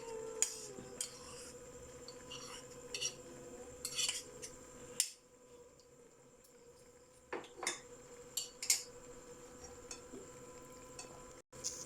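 Egg macaroni stirred in a pan, with faint spoon scrapes and clinks against the metal spaced out over a quiet background, and a soft sizzle beneath.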